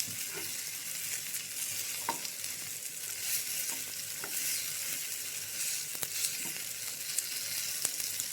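A spoon stirs masala with green chillies and curry leaves in a hot pan, giving a steady sizzle with occasional scraping clicks, close and continuous with no voices.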